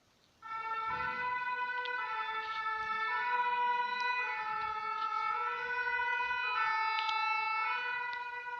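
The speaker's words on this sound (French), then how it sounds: "C'était ambulance." Ambulance siren with a steady multi-tone wail, loud and sustained throughout, rising in after a quiet start and holding close without fading away.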